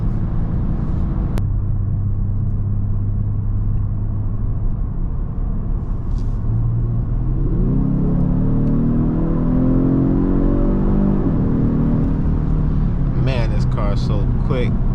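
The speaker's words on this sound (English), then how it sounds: "I know you guys hear that engine, man." A 2023 Genesis G70 3.3T V6 drones loudly from inside the cabin during a night drive, then revs and climbs in pitch through a sustained acceleration before easing off, with brief rattles toward the end.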